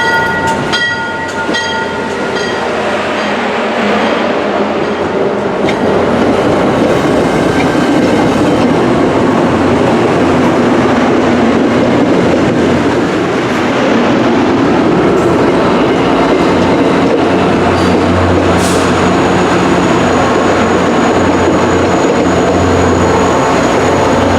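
An MBTA commuter train on the Worcester main line roars past close by, loud and continuous, with rumbling wheels, clattering rail joints and a brief horn-like tone near the end.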